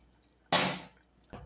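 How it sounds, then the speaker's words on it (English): Cornstarch slurry poured into turkey soup, a quick liquid splash followed by a second shorter splash, close and fairly faint, with no talking. "I'm going to add a cornstarch slurry that I made"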